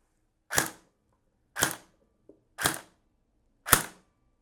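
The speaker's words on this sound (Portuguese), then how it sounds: "Primeiro disparos no semiautomático." A KWA KR-12 airsoft rifle fires four single semi-automatic shots of .20 BBs, sharp close snaps about a second apart with quiet between them.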